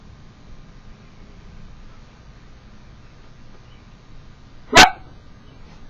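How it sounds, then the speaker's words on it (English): A single sharp dog bark rings out near and loud against a quiet indoor background, brief and abrupt, with only faint hum before and after. "That's my dog."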